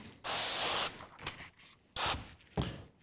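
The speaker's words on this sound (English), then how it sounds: "Spray again our slip solution" Short bursts of slip solution sprayed from a trigger bottle during car wrap film installation, quiet and close, in four or so separate puffs with brief handling sounds between them.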